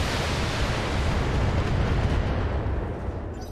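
A BattleTech mech fires all its weapons at once, producing a continuous roaring barrage of blasts and booms that stays loud and dense throughout the short burst.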